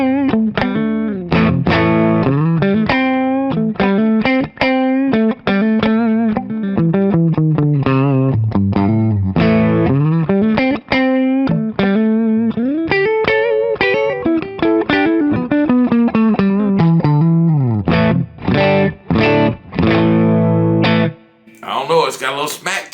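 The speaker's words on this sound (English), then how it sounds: "Let's try the middle." An overdriven Chillcat Les Paul-style electric guitar on the middle pickup position with gain plays a continuous stream of bending lead lines and chord stabs, loud and close, with a short pause near the end.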